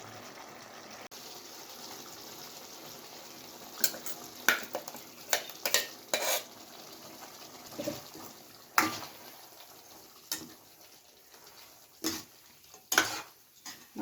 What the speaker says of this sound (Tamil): மசாலா சேர்த்து நல்லா ஒரு பரட்டி விட்டுருக்கலாம்.